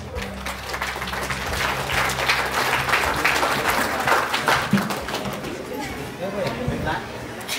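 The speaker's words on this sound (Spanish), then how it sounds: "a quien recibimos con fuertes y calurosos aplausos" Warm applause welcomes a quinceañera and her two chambelanes at a fifteenth-birthday celebration, dense clapping from the guests that continues throughout under a low hum and some chatter.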